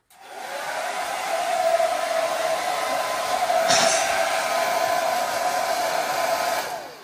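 A handheld hair dryer blows steadily indoors at home, a continuous close whooshing roar with a brief louder burst midway, running alone without talk from start to finish.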